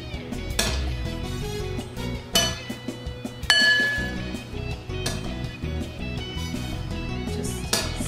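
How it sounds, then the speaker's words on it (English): A spoon works thick, egg-free batter in a bowl, producing several sharp, ringing clinks against the bowl at irregular intervals, close and clear with no talking. "Spoon that into there."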